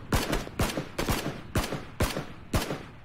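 Gunfire in the battle royale game PUBG: six sharp, evenly spaced shots crack out about half a second apart, loud and close, each with a brief ringing tail.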